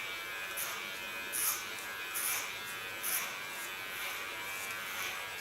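Electric hair clipper blades run through strong hair during an undercut shave. A faint, steady buzz is broken by several brief, crisp rasping swells as the blades bite into the hair, and no one speaks.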